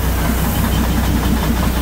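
The coal-fired steam locomotive of the Darjeeling toy train sits idling at the station, giving a loud, steady hiss and low mechanical rumble that runs unbroken throughout.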